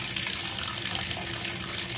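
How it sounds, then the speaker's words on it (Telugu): A kitchen tap runs steadily over a bowl of cleaned fish being washed, a close, constant gush of water with no talking. "వీటిని శుభ్రంగా ఒక గిన్నెలోకి తీసుకొని వాటిని ట్యాప్ కింద పెట్టేసి"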